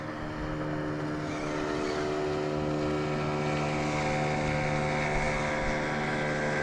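A motorboat passes by on the river during a zander fishing trip, a steady droning engine hum with layered harmonic tones that stays constant and moderately loud throughout, without talk.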